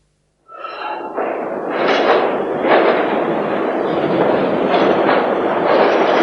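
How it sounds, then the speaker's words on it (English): A driverless underground mail train in London starts abruptly after silence and rolls past loudly, a roaring rumble with clattering wheel bursts that sound close in a tunnel. "It's an underground train service that carries no passengers, and its trains don't even have drivers."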